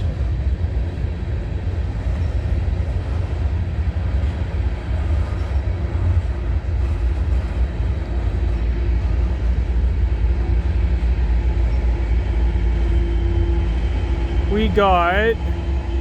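A CN freight train with a DPU locomotive rolls past trackside at night, a steady loud rumble filling the whole stretch, with a brief horn or squeal near the end and people talking over it.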